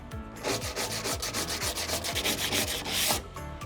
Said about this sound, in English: these little pad stones that are used for sanding porcelain along a chipped edge